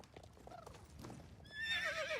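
Horse hooves clip-clop through the first half in Star Stable Online, then a loud, close, wavering whinny rises in the last second.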